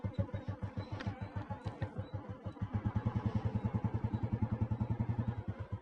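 An old petrol Royal Enfield Bullet motorcycle idles close by with its single-cylinder thump, a steady loping beat that firms up and grows slightly louder partway through.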